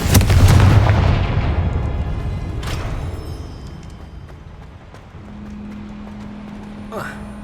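A fiery Confringo blasting spell explodes in the Hogwarts Legacy video game, opening with a loud, heavy boom that rolls off into a fading rumble, followed by quieter in-game ambience and a brief whooshing effect near the end.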